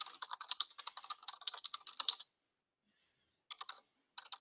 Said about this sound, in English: I'm just going to type in anything just so you can see what happens.